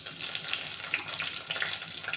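A few dried red chilies, torn and dropped into hot oil in a pan, sizzle briskly with sharp little crackles and pops, a short, close burst of frying sound.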